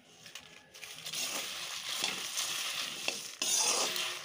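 Cardamom, fennel seeds and dried red chillies dry-roasting in a pan, giving soft rattling, crackling and stirring scrapes that swell after a quiet start, close and fairly faint, with no voices.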